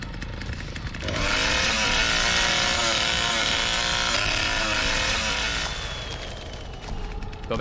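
A chainsaw from The Texas Chainsaw Massacre game roars up after a second and holds a loud, buzzing, steady whine for several seconds before easing back, close and dominant.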